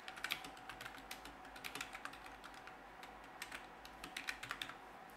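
Quick, light keystrokes on a computer keyboard as a prompt is typed, in irregular bursts of soft clicks, close and quiet with nothing else around them.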